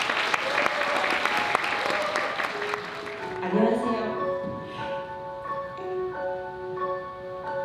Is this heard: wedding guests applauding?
yes